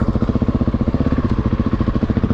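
Husqvarna 701 supermoto single-cylinder motorcycle engine pulling steadily while riding, a loud, close, rhythmic pulsing thump with a rough clattery edge throughout, no voices.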